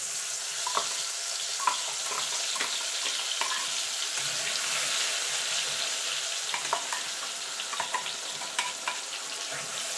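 Onion and green chili paste frying in hot oil, a soft, even sizzle with occasional faint crackles and light stirring clicks, no voices.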